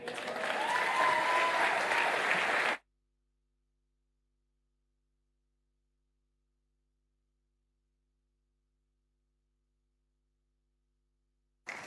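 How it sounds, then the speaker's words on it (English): An audience at a talk event breaks into dense, steady applause for about three seconds, then it cuts to silence, with a brief return of clapping at the very end. "Let's keep clapping."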